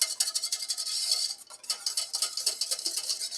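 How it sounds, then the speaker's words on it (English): A whisk scrapes and clicks briskly against a pot of pastry cream heating on the stove, in a fast, steady rhythm of bright metallic ticks, close and clear with no voices. "We want to keep continuously whisking because we don't want anything to burn."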